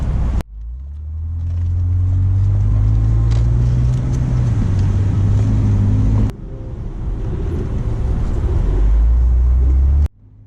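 A relatively low-mileage BMW 330ci in top condition idles nearby with a loud, steady low engine rumble and a slight rise in pitch, cutting out abruptly midway before resuming and then stopping again.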